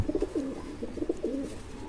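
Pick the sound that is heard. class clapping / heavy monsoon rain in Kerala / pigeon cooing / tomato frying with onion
pigeon cooing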